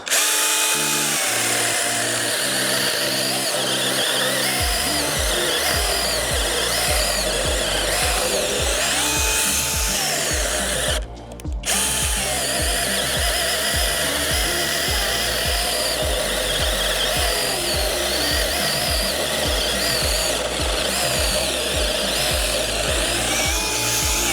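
A Grosser GCS 851 cordless battery chainsaw spins up and cuts through knotty wood, a loud, steady whining drone with a rhythmic chugging under load and one brief pause midway.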